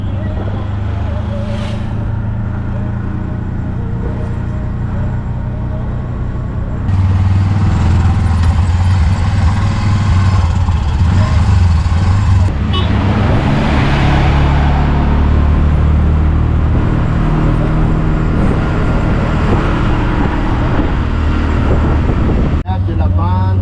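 Big 4x4 vehicles drive along a busy road in Madagascar, a steady close engine rumble and traffic noise running throughout, with one vehicle overtaking another.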